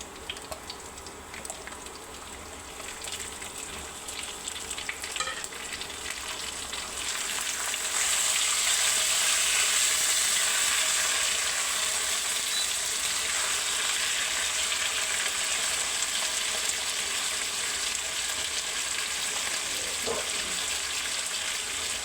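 A fish head goes into a hot pan of oil for a Bengali mung dal dish. Soft background noise swells into loud, steady, crackling sizzling that continues to the end.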